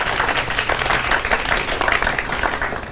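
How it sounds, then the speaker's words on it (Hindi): A loud, dense burst of audience applause fills a hall at a live stage show, many hands clapping steadily and close throughout with no letup. "एक बार जोरदार तालियां हो जाए कल्पना के लिए"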